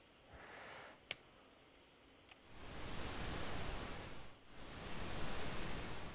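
Soft pink noise hiss that swells and fades in slow amplitude-modulated waves, one every two seconds, preceded by a quieter stretch with a sharp click.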